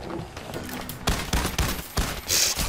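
Gunfire in the video game PAYDAY: The Heist, several sharp gunshots in quick succession after a brief quieter stretch, loud and close with no talk.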